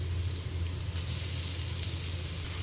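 Cooked rice with broccoli and mushrooms fries in a pan, giving a soft, steady sizzle throughout with faint stirring underneath.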